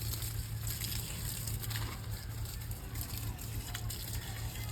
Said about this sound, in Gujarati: મારે આ ઝાડને પહેલા પીવડાવવું પડે